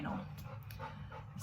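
Pet dog indoors, excited and restless, panting with soft whimpers and little yips, fairly faint and close, with no clear speech.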